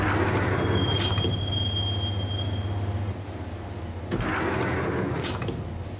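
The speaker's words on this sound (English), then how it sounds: "the train doors had already shut behind me, and I was in for the ride" A subway train rolls along in the video game Max Payne, a loud continuous rumble and rattle of wheels with high metallic squeals of the wheels on the rails early on and bursts of clatter later.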